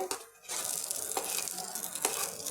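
Ghee sizzling in a pan with a dense, bright hiss that starts abruptly after a brief quiet moment and holds steadily, with faint stirring clicks; no voices.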